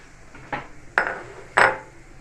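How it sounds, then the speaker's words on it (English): Coated peanuts, freshly browned, are tipped into a bowl in three distinct bursts of rattling clatter, each a sharp hard impact followed by a short scatter, close and fairly loud with quiet between. "I'm just going to put them in this bowl for them to cool down."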